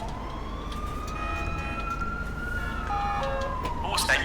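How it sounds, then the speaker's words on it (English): An ambulance siren in GTA V draws in as the vehicle arrives, a steady wailing tone held through the clip over game background noise, with a brief burst of other sound near the end. "The ambulance has arrived, I think."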